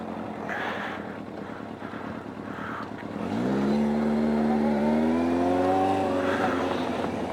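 A motorbike ridden around a car park, first a low idle with wind noise, then the engine revs up into a rising, sustained whine as the bike accelerates past, close and fairly loud.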